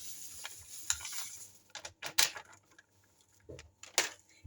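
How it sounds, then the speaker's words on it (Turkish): A whisk clatters and scrapes through milk and chocolate sauce in a pot, with quiet irregular taps and swishes, some sharper clinks, and gaps of near silence between strokes. "Şöyle çırpıcıyla iyice karıştırıyorum."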